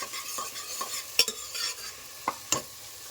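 Whole spices, bay leaf, onion and green chilli fry in oil for pulao, a soft continuous sizzle punctuated by a few sharp spoon scrapes and clinks against the pan, with no talking.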